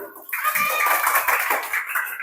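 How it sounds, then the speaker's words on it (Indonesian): Applause from a classroom audience during a teacher training session, a brief burst of clapping lasting about two seconds, fairly close and dense. "tepuk tangan untuk semua"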